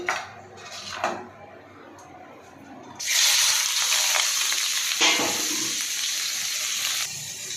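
Salted, turmeric-coated crab pieces with onion and tomato go into hot oil in a wok. After a few quieter clatters, a loud hissing sizzle bursts up suddenly and keeps going strongly, with spitting pops.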